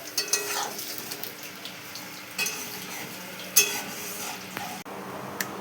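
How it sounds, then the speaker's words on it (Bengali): Onion pakoras of chilli, onion and gram flour batter fry in oil with a soft, fairly quiet sizzle, punctuated by a few sharp crackles and light utensil taps, close and without talk. "লঙ্কা পেঁয়াজ আর বেসন দিয়ে মাখিয়ে পেঁয়াজি ভাজছি।"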